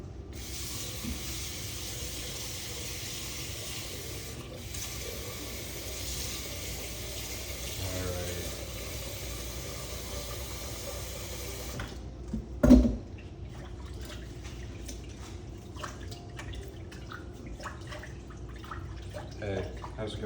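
Tap water runs steadily into a pot being rinsed out, a close, even gush that stops abruptly partway through, followed by a clunk and scattered drips and handling sounds.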